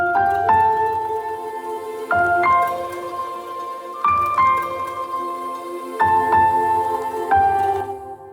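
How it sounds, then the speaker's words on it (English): Orchestral Christmas music with piano, harp bisbigliando, marimba tremolo and flutes, heard as shimmering sustained chords that swell in regular phrases roughly every two seconds, full and close with no talking. "So we're gonna have the piano, arp bisbigliando, marimba tremolo, and then we're gonna have in the second part of the melody, the flutes coming up"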